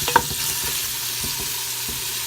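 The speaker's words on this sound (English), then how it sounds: "Now the onions are starting to saute." Onions sauteing in a pan, a steady broadband sizzle with one sharp clink near the start and a few soft stirring bumps, heard close and alone.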